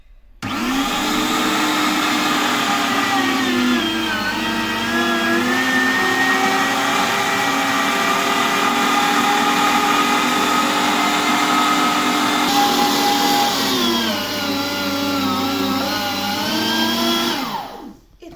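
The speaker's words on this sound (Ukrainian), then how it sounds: "ставимо якусь тарілочку, там, яка вам підходить під місорубку, і починаємо молоть" A loud electric meat grinder mincing pork fat whirs steadily, its pitch shifting slightly as it works under load, running nonstop before winding down at the end.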